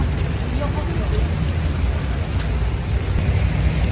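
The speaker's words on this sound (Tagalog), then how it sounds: "When it's raining, Shinjuku hindi. It's raining." Steady rain falls in the streets of Shinjuku, Tokyo, a continuous dense hiss that stays even throughout, with voices faintly present beneath it.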